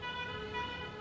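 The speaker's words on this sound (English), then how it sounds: "It's just car horns and that," Sustained car horn tones in Egyptian street traffic, a steady faint blare held over low road rumble.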